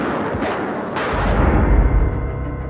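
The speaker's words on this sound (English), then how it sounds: "A man came out and fired some blanks at the pair." Blank cartridges from a pistol fired at the Queen during a 1981 public event, heard as loud, close booming reports that echo into a heavy low rumble, with no voices.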